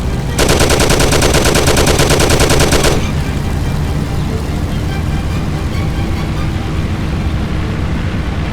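Sustained automatic gunfire in the Mafia: The City of Lost Heaven mission Crème De La Crème, a loud rapid burst lasting about two and a half seconds before cutting off, leaving engine rumble and ambient noise behind.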